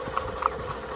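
A horse walking at an easy pace on a village road, hooves clip-clopping in a steady, moderately close rhythm with a few sharper strikes standing out.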